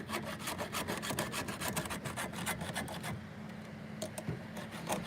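A hand file sharpens a chainsaw chain in steady, rapid back-and-forth rasping strokes, close and continuous with a gritty metallic scrape and no talk.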